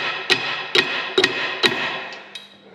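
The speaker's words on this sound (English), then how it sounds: "Here, let's use this hammer." Hammer tapping during repairs to a tile plow, five or six sharp, close metallic strikes at an uneven rhythm, with a faint sixth tap trailing off.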